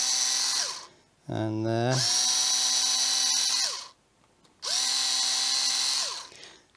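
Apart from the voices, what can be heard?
drill drilling out a part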